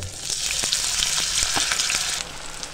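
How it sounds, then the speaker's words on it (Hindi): Cut potatoes frying in oil in a pan, a steady close sizzle with a few soft clicks of stirring, no talking. "2 मिनट आलू हमने फ्राई किए हैं"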